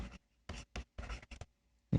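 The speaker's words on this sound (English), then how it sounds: "So I'm gonna write the data." A marker squeaks and scrapes across a whiteboard in several short, separate strokes with brief pauses between them, close and clear, as data is written out for a one-dimensional motion physics problem.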